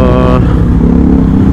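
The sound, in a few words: loud motorcycle engine revving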